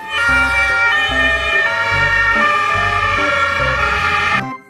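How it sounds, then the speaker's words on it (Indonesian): A loud electronic toy ambulance siren wails steadily in a repeating two-tone pattern with a thumping beat underneath, then cuts off abruptly. "mobil ambulan"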